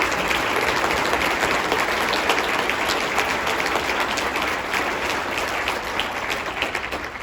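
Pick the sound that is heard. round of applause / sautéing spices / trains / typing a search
round of applause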